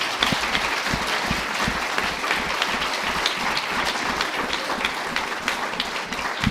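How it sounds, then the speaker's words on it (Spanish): A symposium audience, students among them, applauds speaker Ángel Gurría with loud, dense clapping that holds steady for the whole stretch. "les pido a todos un aplauso,"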